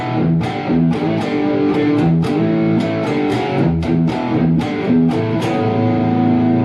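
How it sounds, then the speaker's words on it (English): Heavily distorted electric guitar plays a simplified version of a busy, funky riff from a song, punctuated by banged partial chords in a steady, driving rhythm, loud and continuous with no voices. "And the second time with more distortion, he simplifies that busy, funky riff like this"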